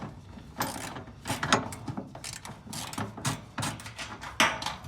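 Ratchet wrench clicking in repeated bursts while tightening bolts on the fuel tank hangers and brackets of a barn-find Austin Maestro, close and fairly loud with short pauses between strokes.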